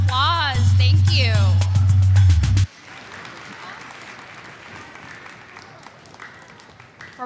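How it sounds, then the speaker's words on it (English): Audience at a Lunar New Year festival clapping after a performance, a dense round of applause that continues after the announcer finishes speaking over amplified music, then fades. "Let's give them one last round of applause."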